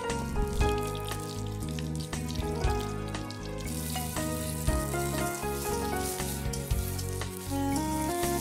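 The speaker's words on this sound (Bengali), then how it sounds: "কড়াইয়ে কিছুটা সর্ষে তেল দিয়ে 2-3টে কাঁচা লঙ্কা চেরা, 5 ফোড়ন দিয়ে পেঁয়াজ কুচি দেব।" Green chillies, five-spice and chopped onion fry in mustard oil in a wok, giving a steady, close sizzle with crackling pops under music.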